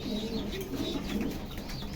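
Low, soft cooing of red check racing pigeons repeating throughout, with faint rustling and a few distant chirps in the background, at a pigeon farm.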